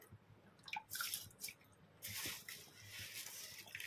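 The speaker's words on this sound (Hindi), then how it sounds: "और उसी के साथ डालेंगे राइस।" Rice tipped into a pressure cooker of water and mutton gives quiet, wet, pattering splashes in short bursts, then a longer soft rustling pour.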